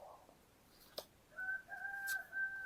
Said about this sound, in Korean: 닭 우는 소리 들리시나요?